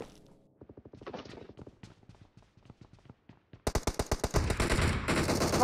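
Gunfire in the PUBG Mobile game: distant rapid automatic bursts and single shots rattle away at first, then much louder, nearer sustained automatic fire takes over toward the end, with no talking.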